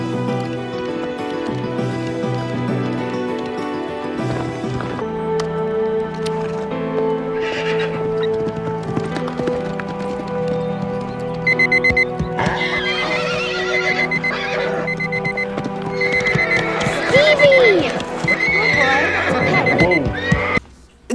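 A horse in a film whinnies loudly, and hooves clip-clop under a continuous music and sound-effects bed, with a sharp neigh standing out near the end.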